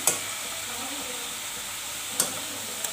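Spices being sautéed in a hot pan, a steady low sizzle with a few sharp stirring scrapes near the start and end, no one talking.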